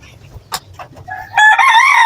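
A rooster crows loudly once, a long harmonic call rising and holding for about a second after a few quieter rustling and clucking sounds.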